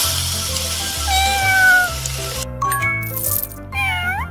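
Cartoon cat meowing in the Power Girls Super City kids' video game, several plaintive meows over game music with a coin-like chime.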